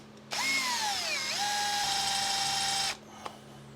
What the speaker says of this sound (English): I'm just going to pop a small drill through first